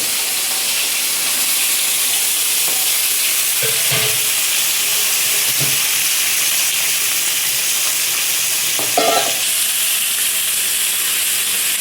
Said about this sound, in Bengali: তেলটা গরম হয়ে গেছে, এবার আমি ইলিশ মাছের মাথাগুলো ভেজে নিচ্ছি।